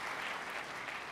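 A theater audience at a talk breaks into applause, a dense, even wash of many hands clapping that holds steady and fairly soft throughout.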